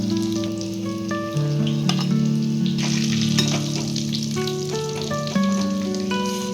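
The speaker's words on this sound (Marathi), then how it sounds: "दोन्ही साईडनी एकदम गोल्डन ब्राऊन तर आपल्याला हे भजे तळून घ्यायचे" Stuffed chilli pakoda (bhaji) frying in hot oil, a steady close sizzle with crackling bursts, overlaid by a sustained tonal hum from the kitchen.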